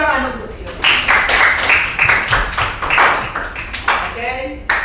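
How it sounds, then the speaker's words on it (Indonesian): Rhythmic clapping in a classroom, a group striking sharp, patterned beats in unison for several seconds with voices mixed in. "Tepuk tangan untuk kita."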